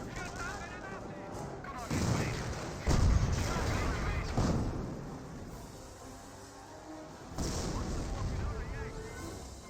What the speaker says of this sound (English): The AI does have registered artillery